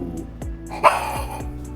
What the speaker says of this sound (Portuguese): Peraí que o nosso pequeno lobisomem aqui tá latindo